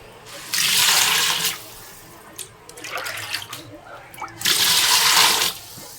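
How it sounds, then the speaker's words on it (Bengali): Water pours into a cooking pot for half-boiling chicken in two separate rushing bursts of about a second each, with quieter splashing and handling noises between them. "এই কিছুটা পরিমাণে জল দিলাম"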